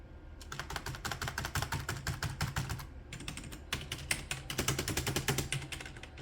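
Rapid keystrokes on a computer keyboard hooked up to an aging Windows 2000 PC, clattering in dense bursts with a short pause around the middle, close and fairly steady throughout.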